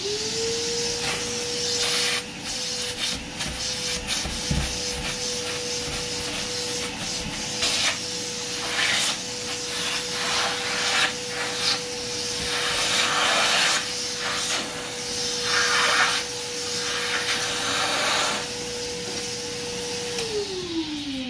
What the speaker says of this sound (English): I want you to do the vacuum.